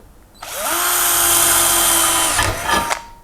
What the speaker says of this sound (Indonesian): ini akan saya coba juga mata bor bawaan tadi untuk ngebor besi ya tentunya